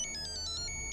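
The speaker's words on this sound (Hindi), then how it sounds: "Sir, phone." A mobile phone ringtone chirps in a quick, repeating electronic pattern in a tense police interrogation room, steady and fairly loud, with no talk over it.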